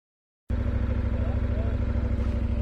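A KTM 1190 Adventure motorcycle carrying a passenger kicks in suddenly after a moment of silence, its engine droning loud and steady with a strong low throbbing hum as it pulls hard.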